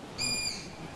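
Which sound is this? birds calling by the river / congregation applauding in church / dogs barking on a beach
birds calling by the river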